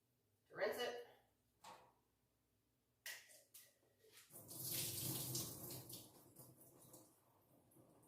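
Tap water runs into a pot to rinse it after a few quiet kitchen clatters, a steady close splashing hiss that swells and then tapers off, with someone speaking softly alongside.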